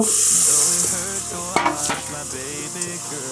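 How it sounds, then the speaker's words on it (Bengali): Fried soybean chunks tipped into sizzling spice masala in a pan for a meat-style soybean curry: a steady close sizzle with a few clattering stirs, over a sustained tonal background. "মশলা আমার ভাজা হয়ে গেছে, এর মধ্যে ভাজা সয়াবিনগুলো দিয়ে দেব।"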